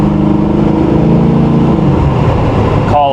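Engine of a 1987 Chevrolet Monte Carlo SS while driving on the road: a loud, steady droning rumble that rises slightly in pitch, heard close with no talk.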